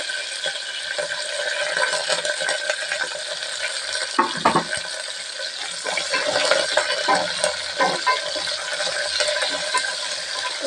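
Curry leaves and green chilies fry in hot oil in a pan, giving a steady, loud sizzle with occasional scraping and clinking of a utensil stirring them.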